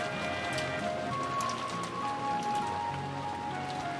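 Rain falling steadily in a scene from the video game Rose Guns Days, a soft continuous patter under faint musical tones, with no voices.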